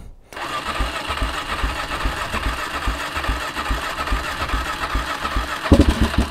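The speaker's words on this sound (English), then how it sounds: "let's just go ahead and try to start it" An ATV or dirt bike engine with the choke on starts up and settles into a rough, rumbling idle with rapid pulsing, close and loud, ending in a short burst of revs.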